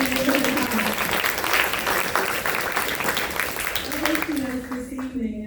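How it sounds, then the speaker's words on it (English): Audience applause at a community event at the Williamsville Neighborhood House, a sustained wash of clapping running under someone speaking over it. "let's give another big round of applause to Rachel, Bender, and Mark"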